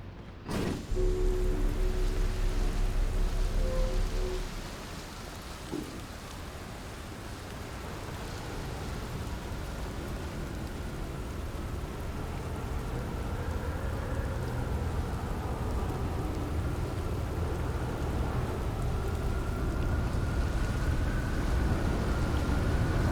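Storm on Giant's Deep in Outer Wilds: a brief thudding opening gives way to a continuous broadband wash of heavy rain and wind that swells slowly and stays steady for over twenty seconds.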